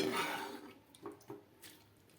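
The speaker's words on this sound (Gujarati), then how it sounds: "તેમાં આપણે શક્કરિયાને કાઢી લેવાના, જેથી કરી તેમાં પાણી હશે તે બધું જ નીકળી જશે" Boiled sweet potatoes tipped into a colander send out a short rush of pouring water that tapers into a few soft, close drips.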